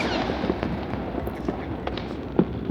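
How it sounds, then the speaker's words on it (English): Distant New Year's Eve fireworks in Bangkok pop and crackle at scattered moments over a steady roar of background noise, with one sharper bang near the end. "Loads of fireworks going off."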